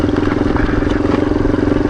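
A motorcycle engine idles steadily while the bike coasts downhill on a mountain road, running slightly rich, with a continuous low, even throb and some wind rush throughout.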